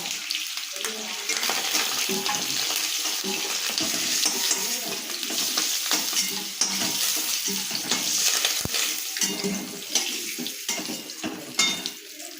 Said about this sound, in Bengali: এবার ডিমটা আমি ভালো করে লাল করে ভেজে নেব